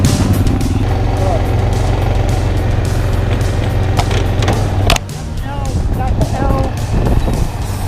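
A motorcycle engine hums steadily up close while being given gas, with wind buffeting the microphone, then drops to a lower idle partway through as a person speaks nearby.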